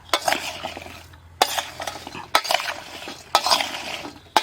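Salt being mixed into a chili and radish pickle, heard as four rhythmic bursts of scraping and stirring with short pauses between them, close and fairly loud with light clinks.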